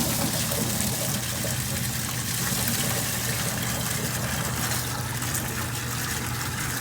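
Water gushing from a tap into a container to mix a bleach and water solution for sterilizing plant pots, a loud steady rushing pour that continues throughout.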